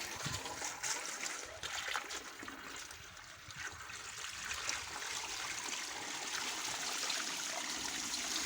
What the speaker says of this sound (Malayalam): വാൽവ് വീണ്ടും ഓൺ ചെയ്യുന്നു.